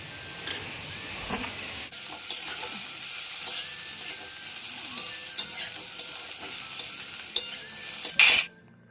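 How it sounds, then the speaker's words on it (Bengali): Potatoes and onions fry in a pan for rotis, a soft continuous sizzle broken by scraping stirs of a utensil, ending in a louder burst of hiss. "আলু পেঁয়াজ ভাজছি একটু"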